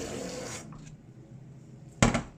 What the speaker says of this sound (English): So this is how I water it